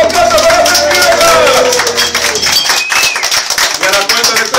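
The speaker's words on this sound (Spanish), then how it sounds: "Aplauso para la princesa." A crowd claps for a birthday girl at a Mexican party in New York hosted by a clown; a loud amplified voice comes first, then a dense patter of applause close by.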